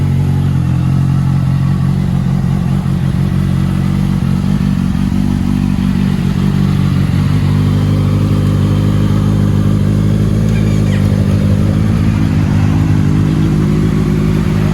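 A motorcycle engine runs loud and close, revving continuously with a throaty, rough rumble and some mechanical clatter throughout.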